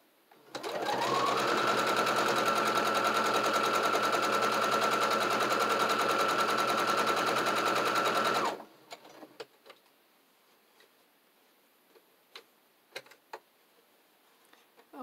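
A sewing machine stitches a mini traveler's notebook insert in one steady, loud, rapid run of about seven seconds, then stops, leaving a quiet room with a few scattered clicks and handling noises.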